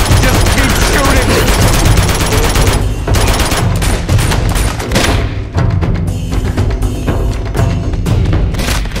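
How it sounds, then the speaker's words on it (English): Dense, loud automatic gunfire and heavy shots pound continuously through an Uncharted 2: Among Thieves firefight, with brief gaps between bursts and voices talking beneath the barrage. "Just keep shooting!"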